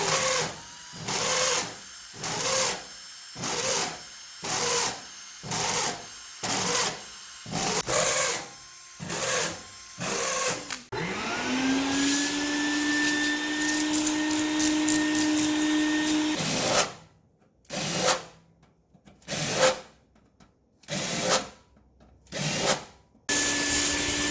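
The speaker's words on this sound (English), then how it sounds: "now we're going to clean up the holes, not leave the sharp edges." A tool deburring the ventilation holes in the metal case of an LV5048 Power Wall 3.0 battery build: rapid rhythmic grinding bursts, then a sustained rising whine, then more choppy bursts, loud and close with no talking.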